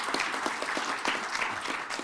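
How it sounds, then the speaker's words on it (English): Conference audience applauding panelists, a steady dense wash of many hands clapping throughout, fairly far and even, with no talk over it. "Please, hand of applause."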